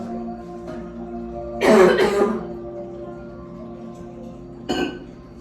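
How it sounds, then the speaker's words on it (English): A close, harsh cough bursts out, followed a few seconds later by a shorter second cough, over a quiet room with a faint steady hum. "I coughed into my elbow, and I just got a tickle in my throat"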